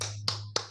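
Two sharp, close claps sound about a quarter second apart during a classroom 'tepuk hebat' clap chant, each one crisp and brief over a low steady hum.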